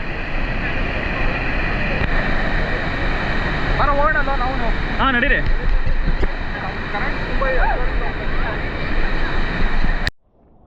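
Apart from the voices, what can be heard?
rushing water at Balamuri Falls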